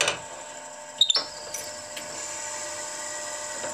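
A 1/4 inch Forstner bit bores into wood with a steady, thin, high-pitched whine, briefly interrupted by a couple of sharp catches near the start, then running evenly and fairly quietly to the end.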